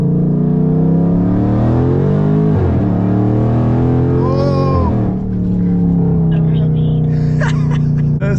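A Dodge Charger Daytona 392 with a Hemi V8 accelerates hard, its loud exhaust rising in pitch through a pull, dipping at a shift, then climbing again, with a person talking over the engine throughout.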